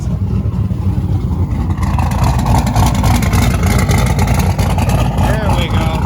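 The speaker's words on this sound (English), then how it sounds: "You can hear the turbos." A truck engine runs loud and close with the rushing whine of its turbos spooling over a heavy steady roar, while a person talks over it.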